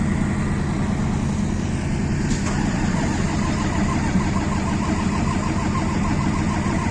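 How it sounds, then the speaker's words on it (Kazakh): KamAZ truck diesel engine running steadily at a loud, close idle, a continuous rough rumble with a brief click near the middle and no talk. "Басқа КамАЗ оталды."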